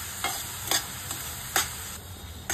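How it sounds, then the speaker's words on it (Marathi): A thick mango and coconut barfi mixture is stirred in a pan, giving soft scraping strokes at a steady rhythm, about every half second, over a faint continuous sizzle. "सगळं मिश्रण मिक्स होईपर्यंत असं आपण आता ढवळतच राहूया आणि घट्ट याचा गोळा झाला पाहिजे."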